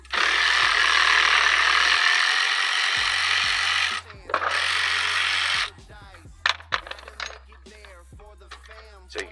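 Harbor Freight cordless 3/8 impact wrench working rear brake bolts on a 2015 Dodge Charger, loud sustained rattling bursts for about four seconds and then a shorter one, followed by clinks of loose metal parts.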